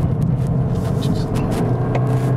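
A Toyota Corolla Sport hybrid with an electric CVT runs at full throttle around 4500 rpm, holding a steady, unvarying drone close up inside the cabin, with no rise or fall in pitch.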